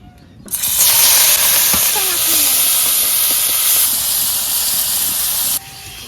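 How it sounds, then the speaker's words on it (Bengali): Prawns are dropped into hot oil and fry with a loud, steady hissing sizzle that starts abruptly and holds for several seconds before dropping away, close up. "এখন আমি চিংড়ি মাছটা ভেজে নেবো"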